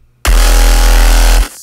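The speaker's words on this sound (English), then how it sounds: "If we turn on the effects, it sounds like this." One loud, thick synth bass note from a Serum synthesizer run through effects, sustained for just over a second with a full, buzzy low end, then cut off cleanly, with no talking.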